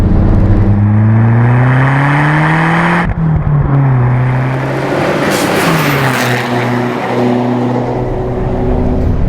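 A first-series Fiat Punto GT turbo engine revs hard and climbs through the gears, loud and close, with rising and falling pitch and a brief gap at a gear change.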